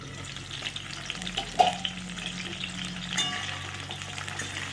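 Potato pieces frying in oil in a covered pan for a banana-blossom ghonto, a steady soft sizzle with a brief stir near the middle, close and fairly quiet, no voices.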